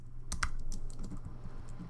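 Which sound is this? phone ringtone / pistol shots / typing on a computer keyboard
typing on a computer keyboard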